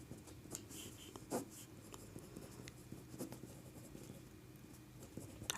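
A pen scratches steadily across paper while a class 10 math solution is written out, soft and close, with a few sharper strokes standing out.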